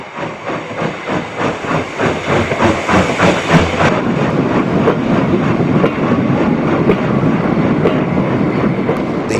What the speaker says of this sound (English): Peckett B3 Class 2114 of 1950 heads for the exchange sidings